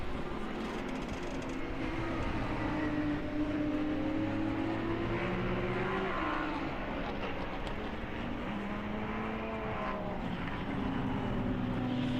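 GT Cup race cars, including Mercedes GT4 cars, drive past at Autodrom Most, with engine notes rising and falling as they pass at a distance, fairly faint and continuous.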